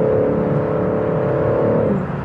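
Cabin view of a 2021 BMW M3 G80 engine, a steady, loud droning hum under acceleration heard from inside the car, holding constant for about two seconds before easing slightly, with no talking.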